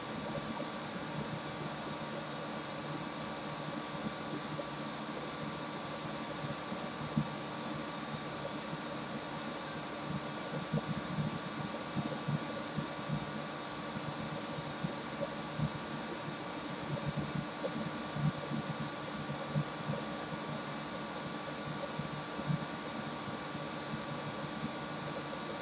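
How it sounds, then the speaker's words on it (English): A fume extractor fan runs steadily during soldering on a Nintendo Switch SD card connector repair, giving a constant, fairly loud broadband whoosh with faint small ticks and clicks over it, with no talk. "Get my fume extractor a little closer."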